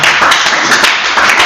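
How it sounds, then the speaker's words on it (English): Audience at a business expo applauds loudly, a dense, steady wash of many hands clapping close up, sustained evenly across the whole stretch with no voices. "So let's applaud him again."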